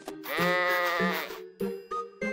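Sheep in the farming game Harvest Moon: The Winds of Anthos bleating in a loud, close, wavering cry followed by several short clipped bleats in quick succession.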